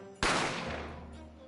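Single gunshot sound effect from The Great Ace Attorney Chronicles, a sudden loud bang that cracks out and decays into a lingering reverberant tail over about a second.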